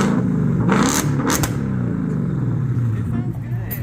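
A 2024 Ford Mustang GT S650 V8 with a newly fitted aftermarket exhaust rumbles loudly, rising in a couple of sharp revs early on and then settling into a steady, deep idle burble, with people talking over it.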